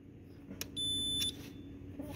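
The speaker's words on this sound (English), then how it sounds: "You can hear my meter." A multimeter gives a single steady continuity beep of about half a second while its probe touches the bimetal thermostat mounting and ground on a Cove dishwasher under recall repair, with light handling noise before and after.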